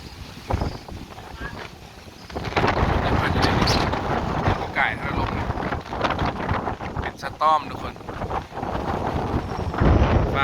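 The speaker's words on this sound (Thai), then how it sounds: "เวียงจันทร์พายุเข้า" Strong storm wind gusts through Vientiane, Laos, roaring and buffeting close to the microphone in uneven surges, with someone talking over the blustery noise.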